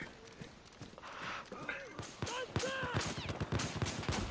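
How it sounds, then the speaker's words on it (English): Rapid gunfire from a zombie video game crackles in bursts of sharp cracks. The shots grow denser and louder toward the end, mixed with excited voices talking over them. "I'm gonna shoot my gun."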